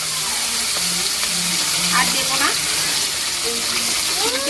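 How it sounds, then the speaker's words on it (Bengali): Bhola fish frying together in a pan, giving a steady, close, broadband sizzle that holds throughout, with a voice speaking briefly over it. "এইভাবে দিতে হবে, তাহলে অনেকগুলো মাছ একসাথে দিয়ে ভাজা যায়।"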